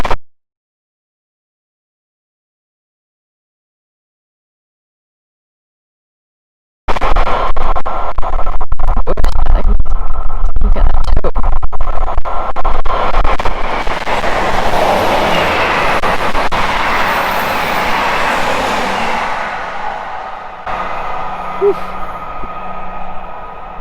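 A train passes through Farnborough Main station on the South West Main Line, arriving after quiet as a loud, close rumble and rush of wheels and air that sweeps by and gradually fades.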